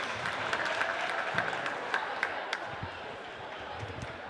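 A crowd at a high school basketball tournament applauds the ninth-grade conference runners-up, a dense wash of clapping with a few sharper individual claps standing out, fading gradually over several seconds.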